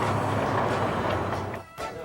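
A passenger train runs along the rails with a steady rumbling clickety-clack, heard from inside, briefly dipping before the rolling noise returns.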